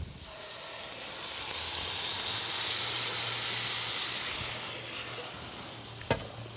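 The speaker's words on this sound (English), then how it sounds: "we're going to take our pureed San Marzano tomatoes and we're going to add that right to the pan" Pureed San Marzano tomatoes hit a hot pan with a loud rising sizzle and hiss that swells, holds steady, then fades, ending with a sharp knock of a utensil against the pan.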